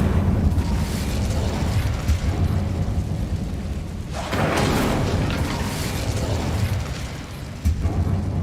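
A fiery blast from the Incendio spell in Hogwarts Legacy erupts with a broad, sustained roar, swelling midway and fading back, with a short burst near the end and no talking.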